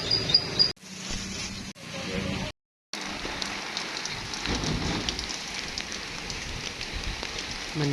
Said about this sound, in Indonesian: Tuh hujan.